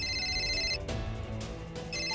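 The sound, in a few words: telephone ringing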